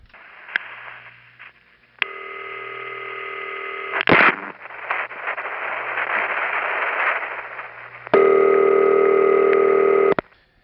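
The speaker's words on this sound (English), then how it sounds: "the intercept trunk's ringtone becomes louder" A 1977 panel-office telephone line plays an intercept trunk's ringtone: buzzy harmonic tone bursts that start softly, then swell much louder once the real ring trips, with faint line hum and clicks between them.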